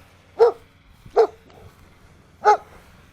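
A friendly dog next door in a DeBary, Florida HOA neighborhood barks three times, each sharp and fairly close, with short pauses between the first two and a longer gap before the last.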